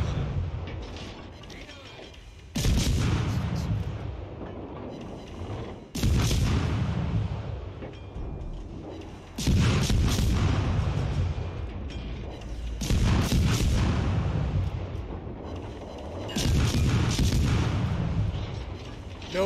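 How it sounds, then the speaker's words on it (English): Battleship main guns firing in World of Warships Legends, several heavy booming salvos spaced a few seconds apart, each a sudden loud blast that rumbles on over mechanical game noise. "Fire your guns, battleship."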